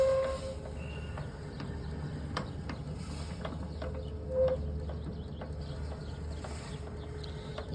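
A Ronco 5 lb electric coffee roaster runs steadily, its low mechanical whir and rattling drum carrying on without a break, with small clicks and ticks scattered through.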